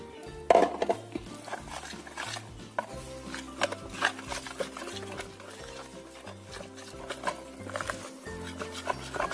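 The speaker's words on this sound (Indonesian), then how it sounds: "Kita aduk sampai rata, masukkan semua airnya" Fritter batter of flour, egg and water stirred in a bowl, giving scattered scraping and clinking utensil taps over a steady looping music bed, with no talking.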